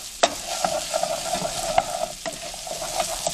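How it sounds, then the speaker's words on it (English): A utensil stirs red lentils toasting dry in a pan, giving a steady faint sizzle with repeated scraping strokes and a few sharper knocks against the pan, with no voices. "been stirring those lentils around for a little bit"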